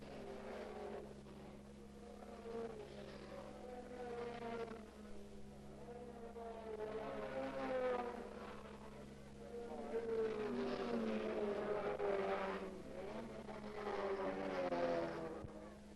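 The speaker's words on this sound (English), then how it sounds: "By half distance of the 19-mile race, Poole has moved the more powerful Datsun ahead of the Elan" Historic race cars, including a Datsun, a Lotus Elan and a Porsche, rumble past at a race meeting, engines droning and rising in pitch as they accelerate, steady and fairly distant, with commentary running over them.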